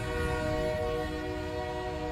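A train rolls past with a steady, loud rumble and clatter while a sustained horn tone holds throughout, continuous and close for the whole stretch.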